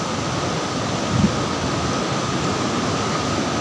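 Floodwater surges through a river at a check dam during heavy monsoon rain, a steady broadband roar that fills the whole clip without letting up, close and loud, with no voices over it.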